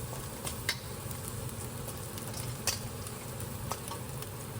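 Spice paste and small anchovies (teri) frying in a little oil in a wok, a steady low sizzle with a few brief crackling pops, fairly quiet and alone.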